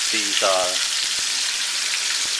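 Pork and shrimp stuffed tofu browning in a pan, crackling and sizzling loudly and steadily. A short voice-like sound comes at the start, then a few sharp pops cut through the hiss.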